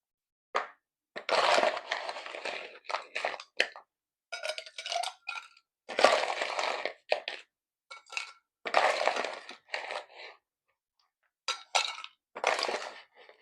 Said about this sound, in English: we're going to add ice to our glass. And we're going to fill it up pretty high with ice.